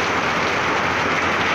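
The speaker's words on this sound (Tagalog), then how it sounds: "Lakas ng ulan" Heavy typhoon rain during Typhoon Ulysses in Pasig pours down as a dense, loud, unbroken roaring hiss, close and constant with no voices.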